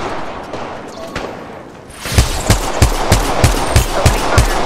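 Rapid, evenly spaced gunshots in the battle royale game Apex Legends Mobile, starting after quieter ambience with a few distant shots, then a steady close burst of about a dozen rounds.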